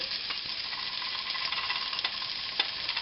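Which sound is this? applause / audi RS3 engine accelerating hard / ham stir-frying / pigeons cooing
ham stir-frying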